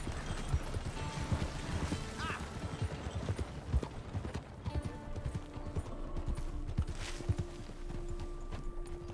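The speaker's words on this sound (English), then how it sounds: "that's a really fast horse, isn't it?" A horse in Red Dead Redemption 2 clip-clops along with fast, rhythmic hoofbeats throughout, mixed with game ambience and faint tonal sounds.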